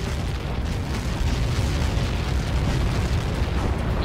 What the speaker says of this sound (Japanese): 今の爆発で何機巻き込まれた。